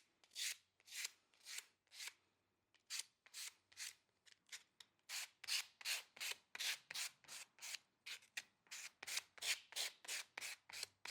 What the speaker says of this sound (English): just run my sandpaper over the edge of the launcher at a little bit of an angle to smooth it